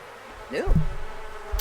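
Bees buzzing in The Sims 4 video game, a short rising and falling buzz that swells briefly and then settles into a low hum, with no one talking.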